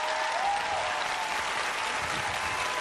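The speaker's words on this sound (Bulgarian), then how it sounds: "Аплодисменти за стърка" Applause from an audience at a comedy performance: a brief, steady wash of clapping at moderate distance, with a faint whistle-like tone early on.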